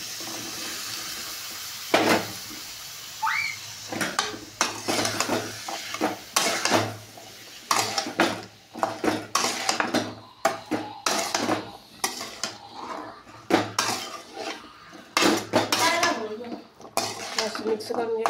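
Washed bottle gourd tipped into a pan of oil and stirred, giving repeated scraping and clinking of a utensil against metal with splashy rustles, close and fairly loud, the strokes coming in irregular bursts.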